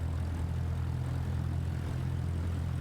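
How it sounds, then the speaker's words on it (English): A propeller plane's engine in Microsoft Flight Simulator 2024 runs at low power while taxiing, giving a steady low drone that holds evenly and without a break. "Just adding a little bit of engine power just to keep the plane steadily rolling"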